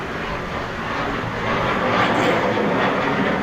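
Air force fighter planes flying over Jamnagar produce a broad, steady jet roar that swells slightly louder partway through, heard alone with no talking.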